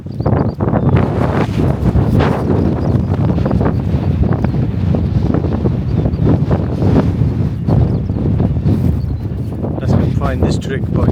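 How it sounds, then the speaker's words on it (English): Strong wind buffets the microphone on an open hilltop, a loud continuous roar with rumbling gusts throughout, no speech audible. "Wow, it's windy."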